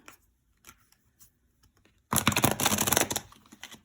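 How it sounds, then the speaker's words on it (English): A large tarot deck is dropped and handled: faint scattered card taps, then a sudden loud clattering and rustling flurry lasting about a second before it settles. "Ugh, dropping cards everywhere."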